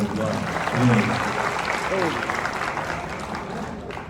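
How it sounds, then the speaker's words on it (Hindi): An audience at a short film festival applauds actor Sanjay Mishra with steady, moderately loud clapping across the whole stretch, while a few voices are heard faintly within it. "तो संजय जी की एक बार जोरदार तालियां"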